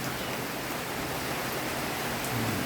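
Steady rain falling on a rural farm, a dense even hiss with no distinct drops standing out, moderately quiet and continuous throughout.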